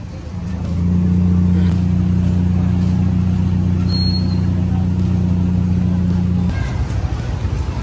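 Road traffic of cars and trucks on a street under construction: a loud, steady idling engine hum close by with a brief high air-brake squeal partway through, then the rumble eases off.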